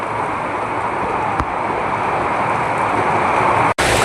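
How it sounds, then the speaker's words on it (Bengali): Heavy rain driven by strong wind, a dense, loud, continuous roar with gusty buffeting and one brief dropout near the end. "ভালো জোরে বৃষ্টি হচ্ছে।"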